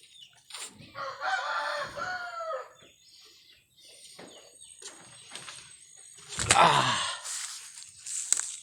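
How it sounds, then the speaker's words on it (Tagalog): Several chickens cluck and squawk while a rooster crows partway through, close and fairly loud, with a few scattered calls. "Nalagapon mga manok guys."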